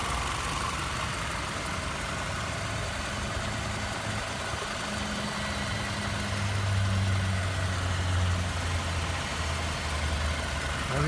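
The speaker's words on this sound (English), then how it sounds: "So let the car stay idle for maybe 10 to 15 minutes." A car left idling in a workshop after an automatic transmission fluid change gives a steady, close engine drone with a faint low tone that swells slightly in the second half, and no one speaks.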